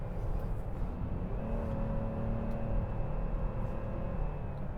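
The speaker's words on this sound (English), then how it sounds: "There's also a constant whine from the intake." Inside a 2019 Chevrolet Blazer Premier AWD on the move, a steady, thin intake whine rides over a dense rumble of road and engine noise, constant throughout with no talking.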